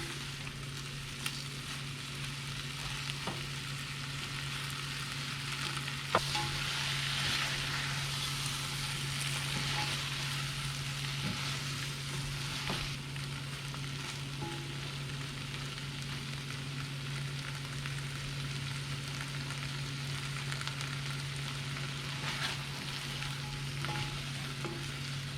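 Jumbo shrimp fry in oil in a deep pot, a steady close sizzle with faint crackles and an occasional clink of a utensil, alongside a low constant hum.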